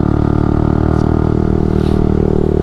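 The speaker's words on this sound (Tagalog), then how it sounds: "Lakas ng motor ni Dos." A motorcycle climbs a steep uphill road at night, its engine giving a loud, steady drone close by that holds at one level throughout.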